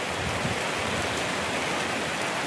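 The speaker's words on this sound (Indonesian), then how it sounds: "Ini hujan cukup lebat" Heavy rain falls in a flooded village in Pekalongan, Indonesia, making a dense, steady broadband hiss that stays loud and unbroken from start to finish, with no voices.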